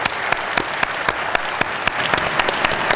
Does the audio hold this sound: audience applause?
yes